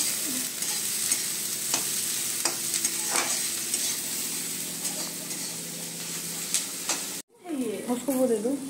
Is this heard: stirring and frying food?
yes